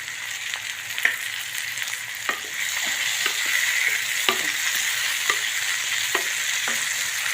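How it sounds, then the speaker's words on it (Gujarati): Rice and potatoes roast slowly in oil in a pan, giving a constant close sizzle with a run of clicks and scrapes as a spoon stirs against the pan. "આપણે ધીમા તાપે શેકાવા દઈશું સરસ મજાને"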